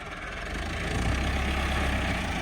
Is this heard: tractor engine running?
yes